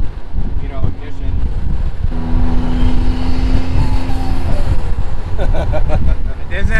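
A twin-turbo Mitsubishi 3000GT VR4 with the 6G72 engine is run loud on a dyno at high boost, its roaring engine holding steady with wind-like rush and turbo whine, overlaid by talk.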